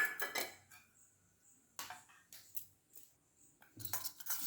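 A spoon scraping and clinking against a pan while spices are mixed into aloo matar, short bursts of metallic scraping separated by quiet gaps, close and fairly soft, with no talk.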